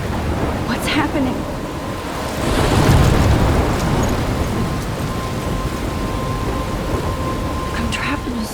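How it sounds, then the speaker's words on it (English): A thunderstorm in the game Life Is Strange, with rain hissing steadily and thunder swelling into a loud rolling rumble midway before easing back under the downpour, with faint crackles at the edges. "I'm trapped in a storm?"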